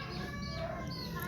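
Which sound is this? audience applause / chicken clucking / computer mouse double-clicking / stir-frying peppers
chicken clucking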